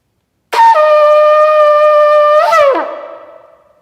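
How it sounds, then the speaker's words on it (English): A shofar sounds a single sustained blast at a Rosh Hashanah family service, a bright horn tone with stacked harmonics held for about two seconds, then bending down in pitch as it breaks off and fades, heard alone and close. "This is the sound of the shofar."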